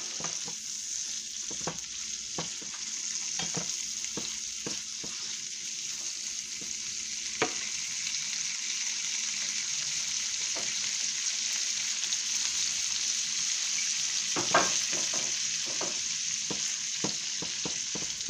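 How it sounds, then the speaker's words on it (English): Peeled frozen shrimp sautéing in a pan for a Neptune sandwich: a steady bright sizzle throughout, punctuated by scattered light clicks and scrapes of stirring, no voices. "I like to saute my shrimps a little bit when I'm making this sandwich"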